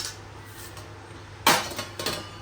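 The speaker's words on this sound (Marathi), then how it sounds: "आता याच्यावर झाकण वगैरे ठेवून देऊ आपण." A metal lid set onto a pot of cooking Maggi noodles: one sharp clank, then a lighter clink a moment later, close by and standing alone over a low steady hum.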